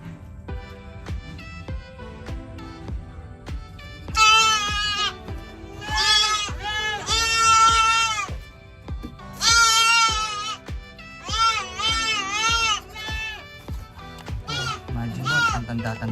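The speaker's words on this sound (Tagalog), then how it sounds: "Tingnan niyo po yung mga kambing." Goats on a farm bleat repeatedly in loud, wavering calls, several overlapping bursts separated by short pauses, with some people talking faintly underneath.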